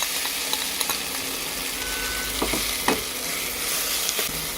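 Mustard seeds done popping, a ground paste sizzles steadily in hot oil for a Kerala prawn and mango curry, with a few scattered crackles and pops rising above the close, continuous frying hiss.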